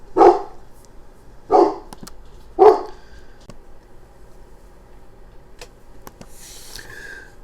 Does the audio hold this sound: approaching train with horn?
no